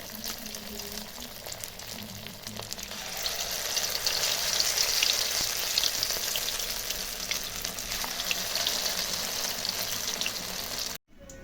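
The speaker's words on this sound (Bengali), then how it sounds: "আবার ভাজলাম, আবার দেখো ভাজা হচ্ছে।" Vegetable pakoras sizzle and crackle in hot oil, a steady bright frying hiss with occasional stirring, growing slightly louder midway and continuing without talk until a sudden brief break at the end.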